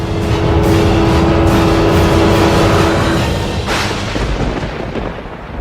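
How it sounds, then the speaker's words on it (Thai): A loud, continuous low rumble rolls on for several seconds, swelling and slowly easing, with no voices. "ฟ้าร้อง ฟ้าผ่าทั้งคืน"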